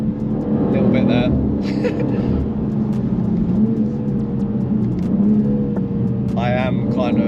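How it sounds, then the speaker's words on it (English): A tuned BMW G87 M2, rear-wheel drive, accelerating hard and pushed to the edge of grip, with a loud, sustained engine roar that rises in pitch. Someone talks over it throughout. "I am kind of like provoking the car though, seeing how much I can sort of go with it before it starts to give out on grip."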